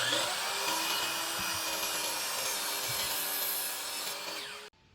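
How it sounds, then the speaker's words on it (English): Hand saw cutting off the side frame of a door slab, a continuous rasping wooden scrape heard close and alone, ending abruptly. "All I'm gonna do is put my saw blade right on the edge of that, and I'll just cut that off."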